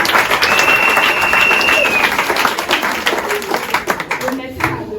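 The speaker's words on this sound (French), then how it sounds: "Acclame Jésus d'abord." A church congregation breaks into loud, sustained clapping and cheering that fills the room, with voices calling out above the applause before it thins out toward the end.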